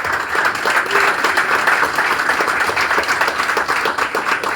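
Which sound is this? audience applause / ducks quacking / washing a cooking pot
audience applause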